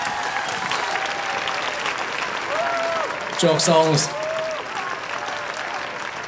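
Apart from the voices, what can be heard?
concert audience applause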